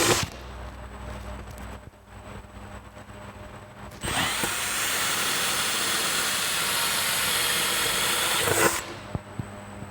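A power drill boring holes into a Vespa scooter for airhorn mounts, one continuous whirring burst of about five seconds that starts abruptly and cuts off sharply, with quieter shop noise before it.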